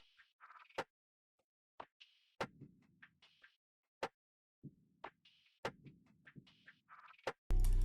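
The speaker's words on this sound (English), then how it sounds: "I went ahead and added this like only one percussion loop" Pitched-down percussion loop in FL Studio, an octave lower and at reduced volume: sparse knocking hits and short plopping, croak-like tones spaced irregularly, ending in a sudden loud burst.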